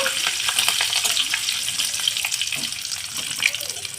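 Two curry leaves fry in hot oil in a pan, producing a steady bubbling sizzle with crisp spattering pops, close and continuous throughout.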